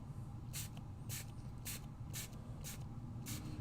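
Ornament Gold shimmer spray paint comes out of an aerosol can in six short, evenly spaced hissing bursts, close and crisp over a low background hum.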